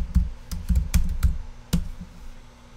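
A computer keyboard is typed on in a quick, uneven run of about a dozen close, crisp key taps, with brief pauses between the clusters.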